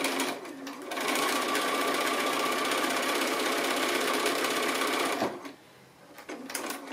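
A sewing machine runs fast and steady, stitching a quilt block along a drawn diagonal line for about four seconds, then stops. A few quieter mechanical clicks follow.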